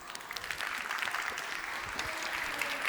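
An audience applauds a speaker at a mobility talk, with steady, dense clapping from a sizable room that stays even and continuous from start to finish.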